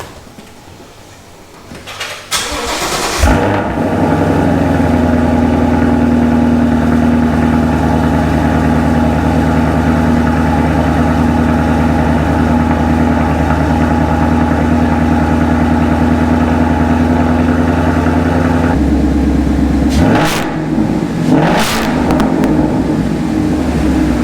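A 2015 Ford Mustang with a Roush axle-back exhaust and X pipe starts up and settles into a steady, deep rumbling idle, loud and close for about fifteen seconds before the note shifts and briefly revs.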